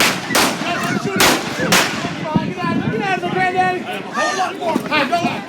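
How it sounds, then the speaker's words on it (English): Gunshots ring out in a staged Old West shootout during a ghost-town Founders Day show, several sharp loud bangs spaced irregularly amid shouting voices and crowd chatter. "I'm shooting at you."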